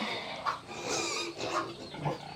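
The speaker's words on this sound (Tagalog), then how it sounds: "Ito po, biik." Piglets on a pig farm grunt in three short, separate bursts close by, over a steady background of barn noise.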